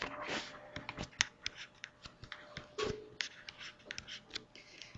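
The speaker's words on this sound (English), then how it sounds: "And I'm going to write it down here." A pen or pencil scratching out math on paper in short irregular strokes and taps, quiet and close with no talking.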